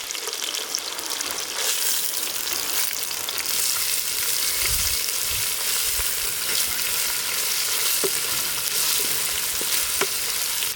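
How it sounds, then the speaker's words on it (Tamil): Dried red chillies, onion, garlic, fennel, cumin and pepper sautéing in oil in a village kitchen, a loud continuous sizzle with occasional scraping stirs and soft knocks against the pan, no talking. "வரமிளகா வதங்கிடுச்சு இது கூட வெங்காயம் பூண்டையும் சேர்த்துக்கலாம் கூட சோம்பு ஜீரகம் மிளகு இது மூணையும் சேர்த்துக்கலாம்"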